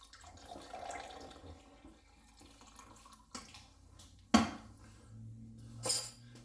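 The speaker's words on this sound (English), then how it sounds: "And then I'm going to mix it with the hot tea." A spoon stirs maple syrup into hot tea in a cup, making faint swishing and a couple of sharp clinks against the side, close and quiet with gaps between.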